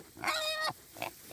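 Pigs on a small farm, American guinea hog and kunekune mixes and pot-bellied pigs, give a close squealing grunt lasting about half a second, then a shorter second grunt.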